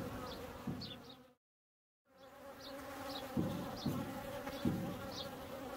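Honey bees buzz steadily in an opened hive. A dense, continuous hum swells at moments, with a brief dropout into silence near the start.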